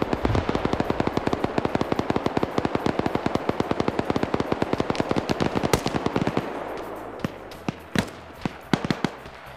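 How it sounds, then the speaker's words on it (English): Rapid, dense bursts of grenade and gunfire-like explosions from a PvP video game match, dozens of sharp cracks in a continuous rattling stream that thins into scattered louder blasts toward the end. "More grenades being popped down by Swola"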